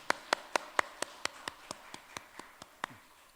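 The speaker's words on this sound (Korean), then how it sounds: "우리 박수로 환영하겠습니다." A small church congregation at a Christmas service claps in a slow, rhythmic series of about a dozen distinct claps, fairly close and fading slightly toward the end.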